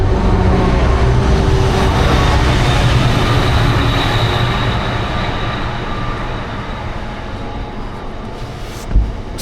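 A Great Western Railway train on the London to Bristol line rushes past beside a river, its loud rumbling roar fading gradually over several seconds, with a short thump near the end.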